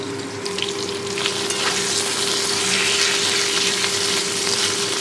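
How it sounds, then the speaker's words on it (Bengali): Potatoes fry in hot oil with ginger paste for a Bengali chorchori, a steady close sizzle and crackle that holds evenly throughout with faint stirring scrapes near the start. "আলু প্রথমে দিয়ে দিলাম, আলুটাকে লাল লাল করে ভেজে নেব"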